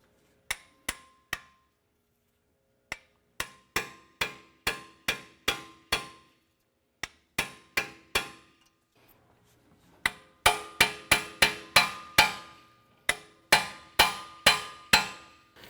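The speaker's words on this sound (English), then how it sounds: "We're going to use our impact screwdriver here to remove these screws." An impact screwdriver struck repeatedly while removing screws from a ball joint bracket on a 2004-2008 Acura TL, sharp metallic hammer blows in irregular clusters with brief pauses, close and loud.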